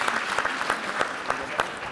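Applause from an audience at the Qatar Germany Business and Investment Forum in 2018, many hands clapping steadily with a few sharper individual claps standing out, moderately loud and heard alone.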